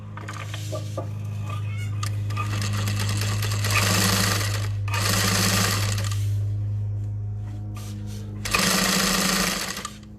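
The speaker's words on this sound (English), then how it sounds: "So I'll baste the top and the bottom on, because those do match." Sewing machine basting the top and bottom edges of an Everyday Tote bag, running in several long bursts with brief pauses between them over a steady low motor hum.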